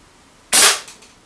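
One sharp shot from a Mad Max Contender air pistol, a single loud crack followed by a quick fading echo after a moment of quiet.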